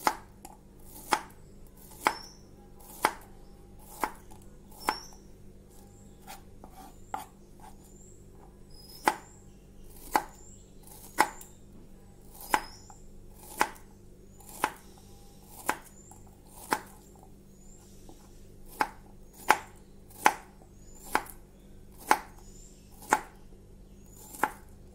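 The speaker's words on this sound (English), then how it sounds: "And then I'm going to chop them" A knife chops bilimbi fruit on a cutting board in a steady series of crisp, close strikes, about one per second, with a low background hum and no talking.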